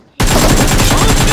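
Gunfire in a shooting video game bursts in after a short near-silence, then holds as a loud, dense, rapid volley of shots for about a second, with no talk over it.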